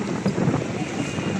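Strong typhoon wind gusting through Divisoria market, a loud, steady rush buffeting close to the microphone and swelling in brief surges throughout.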